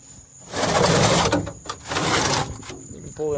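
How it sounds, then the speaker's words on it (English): Battery drawer sliding out of its housing in a vehicle with updated mechanical and electrical gear: two rough, scraping slides of a heavy drawer a second apart, close and loud, followed by a brief bump. "you can pull them out with one hand while making a video"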